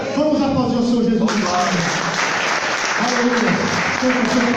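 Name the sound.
church congregation applauding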